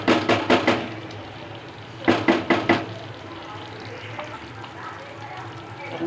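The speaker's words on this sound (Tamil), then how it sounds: "நல்லா கொதிக்கட்டும்." Ginger curry (inji kuzhambu) bubbling in a pan while a spoon stirs it, giving two close bursts of scraping, knocking strokes around a steady sizzling simmer.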